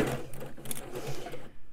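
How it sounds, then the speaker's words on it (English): A sewing machine stitches around a curve of fabric on a surgical gown, a short steady run of rapid needle clatter at close range that stops near the end. "I would put the needle down if you can, and just sew all the way around the curve"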